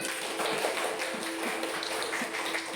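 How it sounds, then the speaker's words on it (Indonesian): Second-grade primary school children clap in a classroom, a steady patter of many small claps and taps with faint voices underneath. "Kita beri tepuk tangan untuk kita semua."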